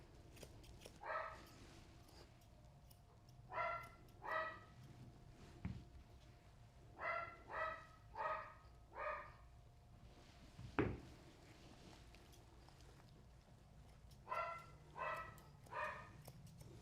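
A dog barks during a grooming session, sending out short barks in clusters of two to four, separated by quiet pauses, with a couple of sharp knocks between them.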